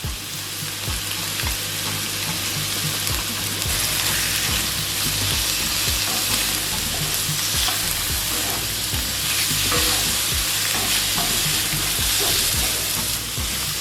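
Minced garlic and scallion whites are stir-fried in a hot pan, producing a loud, continuous sizzle broken by repeated scraping strokes of a utensil, with no one speaking.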